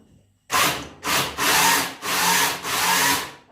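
A Parkside electric pole pruner's chainsaw cuts through wood in five loud, close bursts of rasping, each lasting about half a second to a second, with brief gaps between them.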